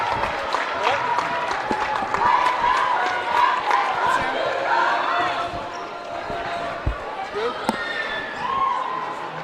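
A busy indoor crowd at a high school boys basketball game rumbles steadily with scattered claps, cheers and sneaker squeaks, while people talk nearby.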